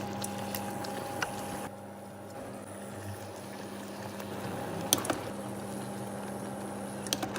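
Clementines simmer in a pot of boiling sugar syrup, giving a soft, low bubbling with occasional small pops and crackles, quiet and close.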